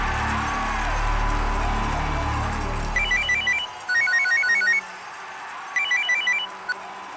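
A phone ringing in short repeated electronic trill bursts, three rings after a low rumbling background fades out.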